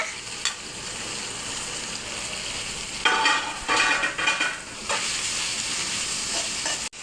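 Garlic paste and tomato fry in a hot pan with a steady sizzle, broken by bursts of spatula scraping and stirring strokes near the middle, heard up close without talk.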